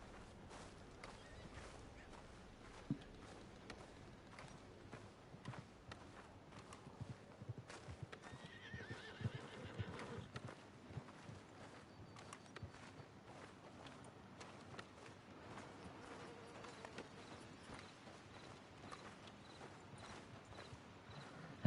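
A horse in the Red Dead Redemption 2 video game neighs while its hooves clip-clop at a walking pace, quiet and steady throughout with no talk.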